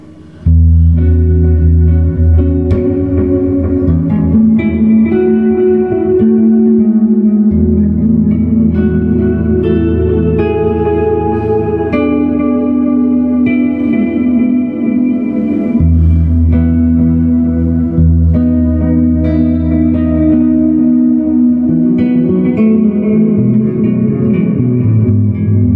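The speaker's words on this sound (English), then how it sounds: "I'm just running through a plethora X5 from TC Electronics, which has a delay and reverb on it" Guitar played through a TC Electronic Plethora X5 delay and reverb pedal, sustained ambient chords and notes washing into long echoing tails, loud and continuous throughout with no talking.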